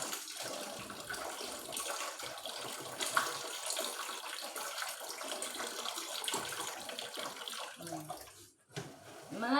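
Warm water pouring and splashing over a Barbie doll during a play bath, a steady close running-water wash with a brief quiet dip near the end.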